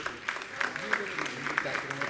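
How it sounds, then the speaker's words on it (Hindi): An audience at a Jain monk's question-and-answer gathering claps, scattered, uneven claps beneath a speaking voice that dominates. "आपकी तालियां कम बज रही हैं जी"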